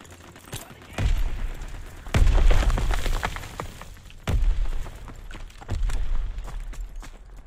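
A grenade goes off in a Fortnite match amid gunfire: several sharp, loud blasts and bursts of shots arrive in spaced clusters, each followed by a rumbling decay.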